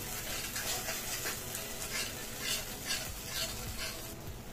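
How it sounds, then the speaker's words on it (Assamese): Spice paste for curd curry (doi katla) sizzling and frying in a pan while being stirred steadily, a continuous crackling hiss with soft scraping throughout. "মই গোটেইখিনি মছলাই ভালদৰে ভাজি ল'লোঁ"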